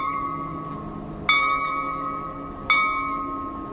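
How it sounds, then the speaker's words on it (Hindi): Two sharp bell strikes ring out a little over a second apart, each leaving a long shimmering ring of overtones that fades slowly, heard alone outside a haunted mansion in a horror tale. "इतने में हवेली के बाहर ले घंटी के आवाज आईस।"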